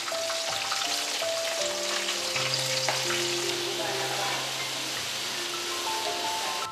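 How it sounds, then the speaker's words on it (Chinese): Battered shrimp deep-frying in oil: a continuous, even crackling sizzle at moderate level, with a melodic background underneath and no speech. "而裹粉油炸的鲜虾"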